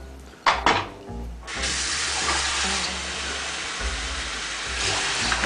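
Tap water runs into a pot for Korean doenjang stew, opening with a few clinks of metal, then a steady, fairly loud splashing stream that fills the rest, with no talk.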